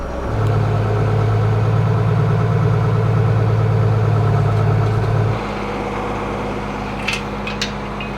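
A John Deere 4440 tractor engine runs close by with a steady, heavy low drone, then settles to a quieter idle partway through.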